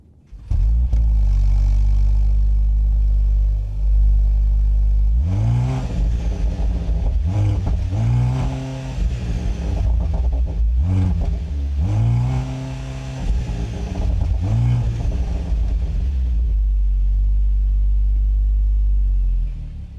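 A 2025 Mercedes-AMG GLC 43 SUV engine cranks and catches loud and close, then settles to a steady idle broken by several sharp revs that climb and fall back, with no talk over it.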